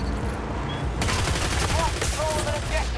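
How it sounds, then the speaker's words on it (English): A full-auto railgun fires in the shooter game Battlefield 2042 as a rapid burst of sharp shots that starts abruptly partway through. Whistling in-game effects and background game noise sit under the shots, and a voice speaks faintly. "There's my full auto railgun kill."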